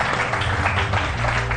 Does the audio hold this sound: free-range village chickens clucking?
no